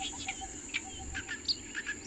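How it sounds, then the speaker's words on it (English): An orange-breasted green pigeon in the wild gives short, high, scattered chirps and whistles over a steady insect-like hum, fairly faint and irregularly spaced. "The orange-breasted green pigeon is a very beautiful bird that moves around in flocks."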